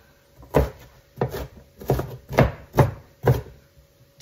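A knife chopping food on a cutting board while making a sausage, pepper and onion pizza, with seven evenly spaced firm chops, close and clear, and no talking.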